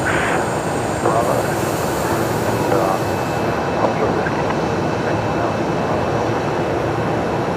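Airbus A350-900 taxiing at Brisbane Airport: a steady, broad jet engine roar holding level throughout, with faint radio chatter and light background noise over it.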